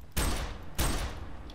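Two sharp bursts of rapid gunfire from the video game F3AR, each a loud fusillade that quickly trails off, separated by a brief gap.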